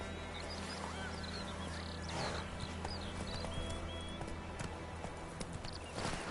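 Roach, the horse in The Witcher 3 around White Orchard, trots with steady, fairly faint clip-clopping hooves over a constant outdoor background.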